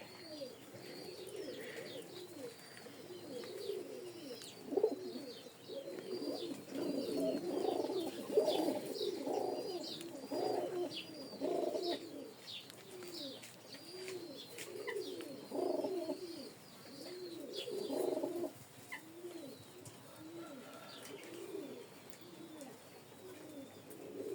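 Pigeons coo repeatedly while being fed after rain, a soft layered chorus of rolling coos from several birds close by, with faint chirps mixed in and no talking.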